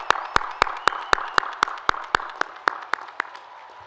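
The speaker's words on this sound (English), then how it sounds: "How about one more really loud round of applause for these amazing graduates?" A lone set of sharp, evenly spaced hand claps, about fourteen in under four seconds, close and distinct, at a university commencement for graduates, fading slightly toward the end.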